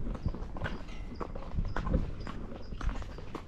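Hooves of a Spotted Saddle Horse clip-clopping at a walk near an arena, a steady uneven run of close, moderately loud thuds and clops with no talking.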